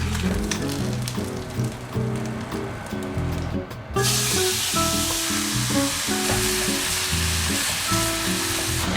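Food sizzles steadily in a new stainless steel pan, a close, continuous frying hiss that jumps noticeably louder midway, with music playing underneath.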